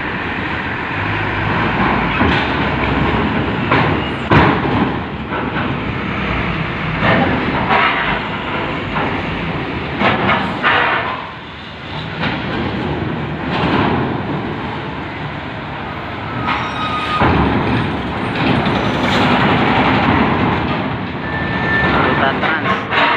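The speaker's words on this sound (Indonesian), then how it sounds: "suara ramdornya sampai kenceng." A heavy Sinar Jaya bus crosses the steel ramp door of a ferry at Merak port on the Sunda Strait, making a loud, continuous rumble with rattling and clanking that dips briefly midway.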